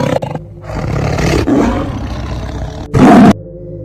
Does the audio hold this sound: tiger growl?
yes